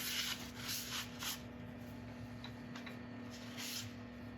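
A cloth drawn lightly over fresh finish on chestnut burl wood, making soft rubbing swishes in a few separate strokes, close and quiet over a steady low hum.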